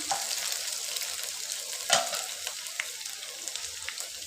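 Chopped green chilies and ginger frying in a pan, a steady soft sizzle with occasional stirring scrapes and small pops, moderately quiet and continuous with no voices.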